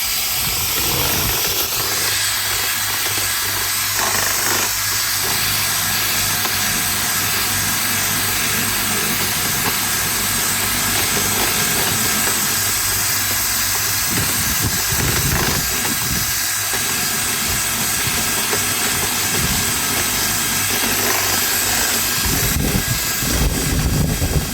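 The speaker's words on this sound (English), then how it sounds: "Cordless drill and a broken fiberglass paddle mixer." A cordless drill spins a broken fiberglass paddle mixer in a bucket of water, a loud, continuous motor whir with a churning roar that holds for over twenty seconds with brief shifts in load.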